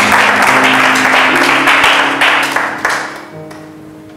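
A church congregation applauding during a sermon, loud and sustained, with many hands clapping close by before the applause gradually tapers off.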